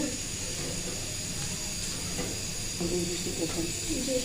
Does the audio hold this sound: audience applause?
no